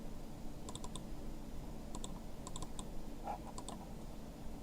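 Mouse clicks on a computer while loading files into an image converter, a few quick double-click bursts spaced apart over a low steady hum, close and fairly quiet.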